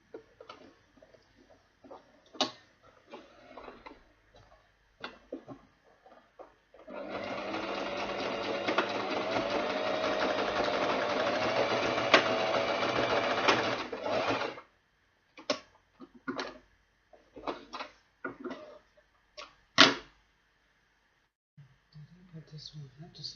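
Sewing machine stitching an ankara leather bag in one steady, continuous run of about seven seconds, flanked by scattered clicks and handling knocks before and after.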